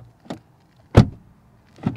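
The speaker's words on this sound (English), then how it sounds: "Door open and close sound from the outside" The door of a 2021 Audi RS6 Avant, heard from outside, opens with a click, then shuts with a solid thump, followed by another latch click; three distinct mechanical sounds, close by.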